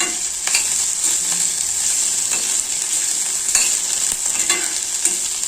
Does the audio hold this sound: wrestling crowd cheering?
no